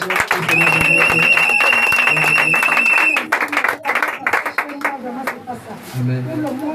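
A church congregation claps and applauds steadily and loudly, with voices rising over it and a sustained musical tone, then the clapping thins into scattered claps as the applause dies down.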